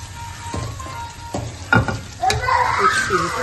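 Tomatoes for rasam fry and sizzle in a pan while a spoon stirs them. Sharp scrapes and clinks sit over a steady hiss that grows louder toward the end.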